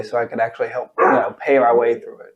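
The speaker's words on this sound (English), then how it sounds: "Sorry, guys, that's my dog." A pet dog barks a few times indoors, its bursts mixed in with a man's ongoing conversation.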